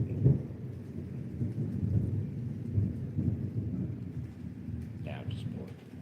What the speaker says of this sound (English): And there's the thunder.